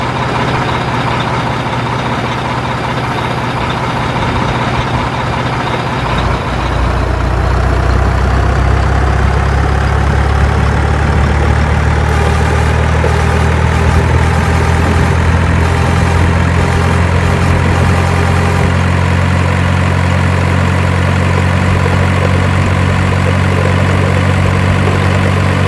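A heavy long-bodied tronton truck idles loud and close with a deep, steady rumble. The engine note thickens and rises slightly partway through as it prepares to pull away.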